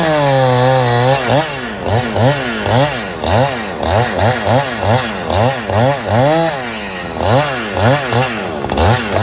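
At a construction site, a tree trunk is cut by a chainsaw-like tool that revs in repeated rising-and-falling strokes, loud and close, with steady rhythmic surges and no voices.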